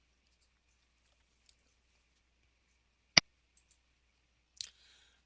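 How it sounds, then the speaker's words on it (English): A single sharp computer mouse click lands in near silence, followed by a couple of faint ticks and a brief soft rustle. "You can go ahead and click on that and download that file."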